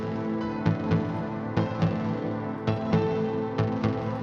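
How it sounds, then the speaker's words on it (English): A Nexus concert piano virtual instrument in FL Studio plays sustained deep tech house chords, restruck in a steady repeating rhythm about every second. No voices. "I added a piano, a nice piano."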